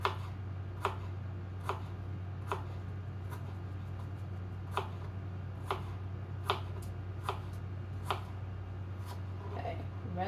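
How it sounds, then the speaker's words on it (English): A knife dices fresh red peppers on a board in a home kitchen, giving sharp, evenly spaced chops about once a second over a steady low hum. "So peppers is fresh peppers, and we'll start dicing these up."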